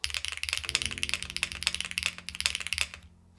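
Fast, steady keystrokes rattle on a Xenox mechanical keyboard with HMX Hydra switches, a dense close-up stream of sharp clacks that tapers off into quiet at the end, no speech present.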